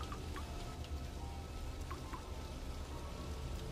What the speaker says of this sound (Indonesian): Suara gerimis yang menemani sore terasa begitu tenang setelah pergantian shift.